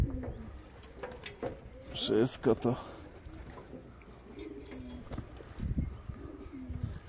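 Pigeons coo softly in a breeding loft on a windy day, short throaty calls rising under someone speaking Polish, with faint wind and rustling behind.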